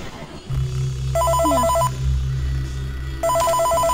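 Telephone ringing in the video game Five Nights at Freddy's 3, two bursts of a bright electronic ring over a low steady game hum, close and clear.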